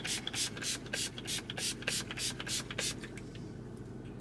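A facial mist sprayer puffed onto the face repeatedly, about nine short hissing bursts in a quick regular rhythm, close and crisp, with the last couple softer and a quiet room behind.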